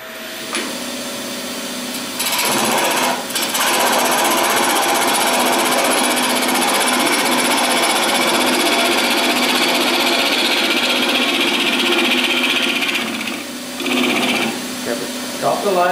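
Wood lathe turning a multi-centre goblet, a steady loud whirring hum with a tool cut running continuously for most of the clip, briefly dipping near the end; a voice speaks over parts of it.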